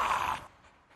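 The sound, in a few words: dog panting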